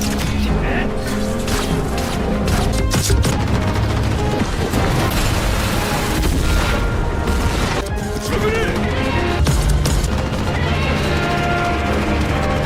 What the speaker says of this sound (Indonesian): Alhasil mereka menembaki Godzilla lagi nih, bahkan kota Mecha Godzilla juga ikut menyerang